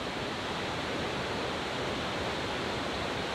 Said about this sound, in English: The Krka River forms 7 magnificent waterfalls.